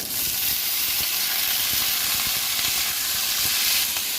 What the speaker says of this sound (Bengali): এবার দিয়ে দিচ্ছি কুদুরি